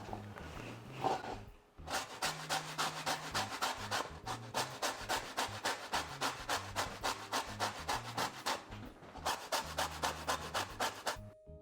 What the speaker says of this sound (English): We're going to grab our lemons and zest them.